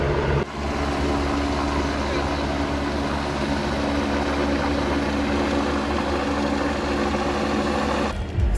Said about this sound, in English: We were just in time to see some of the helicopters flying overhead to drop off the drivers.